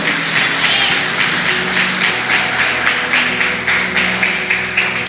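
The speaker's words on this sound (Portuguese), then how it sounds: "Você pode aplaudir a Jesus." Church congregation applauding during a worship service, a loud, close burst of many hands clapping in a rhythmic, pulsing pattern, continuing steadily over a low background hum.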